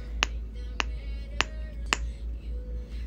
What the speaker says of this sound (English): Let's see the snapper.